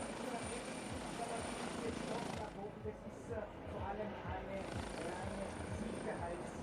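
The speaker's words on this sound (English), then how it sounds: "So Peter Gedel will keep the race on hold until the helicopter operation is complete." A rescue helicopter hovers over the mountain at a women's World Cup downhill in Zauchensee, Austria, winching up an injured skier. Its rotor chop thumps steadily and fairly loudly throughout, with faint voices underneath.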